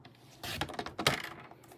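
Card stock is sliced on a paper trimmer in a couple of quick, faint cutting strokes with light clicks, close and quiet in a calm room.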